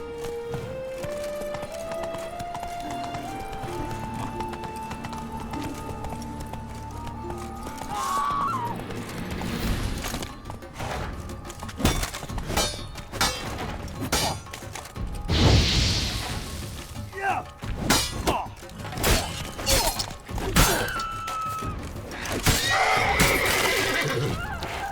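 Roach the horse in The Witcher 3 whinnies loudly, then hooves clip-clop at a gallop over a rumbling game soundtrack, with thuds and clattering effects mixed in.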